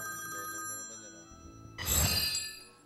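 A telephone rings with a sustained, bright electronic tone, then a louder burst of rattling ringing near the end; no one speaks.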